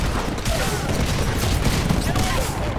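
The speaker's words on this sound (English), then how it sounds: "Didn't mean to shoot you there." Continuous loud gunfire from a Titanfall multiplayer match, a dense rapid fusillade of shots running without a break.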